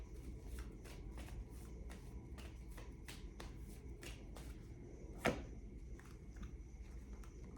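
Tarot cards being shuffled by hand, a run of soft, regularly spaced riffling flicks with one sharper snap near the end, quiet and close with no talking.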